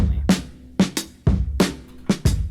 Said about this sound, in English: This is actually from a drum break. So it's a whole loop. Sounds like this normally.